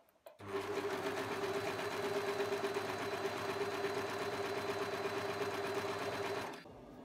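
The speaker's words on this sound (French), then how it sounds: "On zigzague ou on surjette les valeurs de couture séparément." A sewing machine zigzags or overlocks seam allowances on a blouse, starting abruptly and running as a steady, even mechanical whir for about six seconds before stopping, close and quiet.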